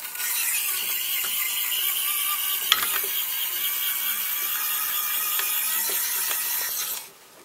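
A small N20 gear motor drives an RC excavator boom with a close, high whirring grind and faint ratcheting clicks that run steadily for about seven seconds before stopping.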